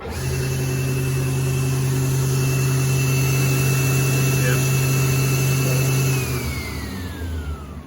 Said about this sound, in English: It's stealthed up so maybe you can hear it on there. Yeah, yeah. The scoring saw.